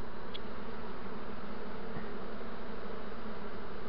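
Bees buzz steadily around a swarm being searched for its queen, a dense continuous hum at moderate level with no voices.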